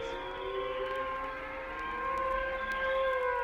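A siren wails steadily with sustained tones that waver and shift in pitch, and a low rumble runs underneath.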